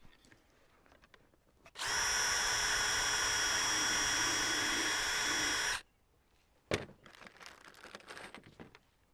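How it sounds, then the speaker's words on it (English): A power drill with a 2mm bit bores into a wooden plank of a National bee hive, one loud, sustained whine lasting about four seconds, followed by quieter handling knocks and taps. "That's a 2mm drill bit"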